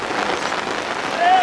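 Heavy rain pours at an amateur football match, a dense, steady hiss of drops drumming on surfaces nearby, with a faint whistle-like tone near the end.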